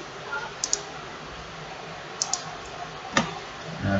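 Computer mouse clicks while selecting holes on a disc brake model in ANSYS: two quick pairs of sharp, close clicks, plus a single louder click later, over a faint steady room hiss.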